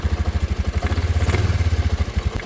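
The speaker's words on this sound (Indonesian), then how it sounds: "Untuk tombol starter kita pencet ya." Electric starter motor cranking on a Honda Vario scooter, a rapid, loud, evenly pulsing whirr with a slight surge in the middle, close to the listener and with no talk.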